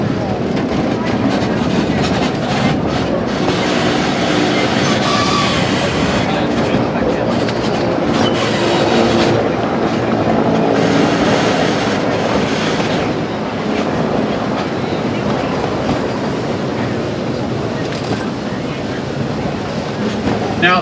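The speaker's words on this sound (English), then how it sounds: "Dixiana is going to be working very hard getting this train up the grade" Narrow gauge steam locomotive Dixiana hauling a train up the steepest narrow gauge switchback grade in the United States, steady loud rumble of cars and clickety-clack wheels throughout, with a whistle-like tone near the middle.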